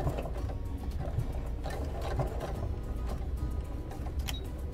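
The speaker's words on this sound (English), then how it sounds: "I'm going to back stitch across this end of the zipper" A sewing machine back stitches across the end of a zipper on a zippered pocket, a rapid rhythmic clatter of needle strokes running steadily at close range without speech.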